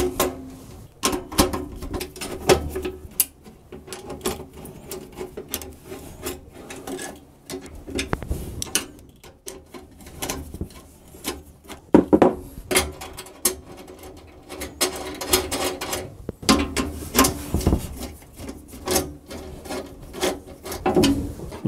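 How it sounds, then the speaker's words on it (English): A Snap-on screwdriver driving and tightening screws on a half-width 10-inch server rack for Raspberry Pi, with continual small metallic clicks, ratcheting scrapes and taps of hardware close by, fairly quiet and uneven. "I'll take my trusty snap-on tool screwdriver because this actually fits it really well. Start buttoning up everything."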